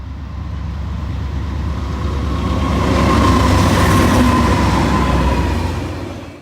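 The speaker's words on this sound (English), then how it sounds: "Rail companies love diesel electric locomotives because they're cheap and easy to repair." A diesel-electric locomotive train rolls along a rail line, its heavy rumble and rail clatter swelling as it nears, holding steady, then easing off slightly at the end.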